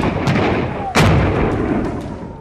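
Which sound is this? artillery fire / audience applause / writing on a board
artillery fire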